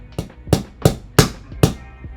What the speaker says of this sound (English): Little hammer here, and you tap it in place.